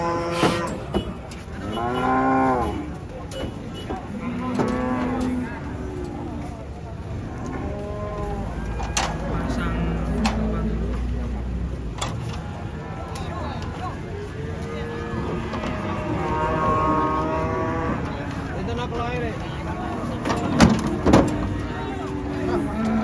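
Cattle moo repeatedly, loud and close, at a busy livestock market as they come off a truck, with people talking and shouting nearby.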